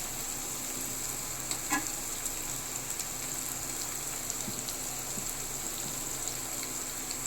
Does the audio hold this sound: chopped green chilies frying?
yes